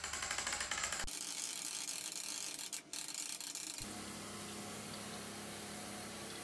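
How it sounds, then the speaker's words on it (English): A homemade garage crane's winch ratchets steadily as it slowly hoists a pot of ice out of a cooling bath, a continuous mechanical clicking with a brief pause midway, then a softer, even whirring hum. "I built this crane with a winch at the top and slowly raised the pot out of the cooling bath"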